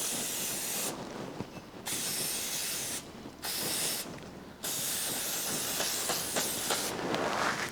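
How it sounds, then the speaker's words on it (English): Brake cleaner sprayed from an aerosol can onto an 80-year-old motor, in several loud, close hissing bursts of varying length separated by brief pauses. "All I'm doing is spraying a little brake cleaner on it"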